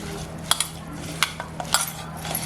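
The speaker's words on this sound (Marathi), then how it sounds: "बेसन पण आहे ना मी अर्ध टाकते आणि व्यवस्थित जरा मिक्स करून घेऊया" A spoon clinks and scrapes in a bowl as besan is mixed into a baby prawn patty mixture, a few sharp close taps over a soft background of stirring.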